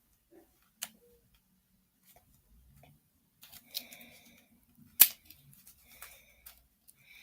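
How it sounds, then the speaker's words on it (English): Scissors snip the tip off a Sharpie marker in a quiet room, with sparse close clicks and one sharp, loud snap in the middle amid faint handling rustles. "Cut the tip off my Sharpie and still doesn't work."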